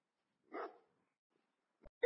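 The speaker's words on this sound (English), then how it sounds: "Hey, I need two pet puppies, a black husky and a bulldog." Dogs at a dog exhibition in the City Car Driving game: one short bark-like burst rings out in a quiet space, followed after a pause by a couple of brief sharp sounds at the end.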